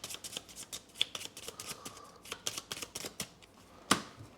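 Cards are shuffled for the Aeon Trespass Odyssey board game at a tabletop, a rapid run of crisp riffling snaps and flicks over several seconds, ending in one sharper slap, close and alone without talk.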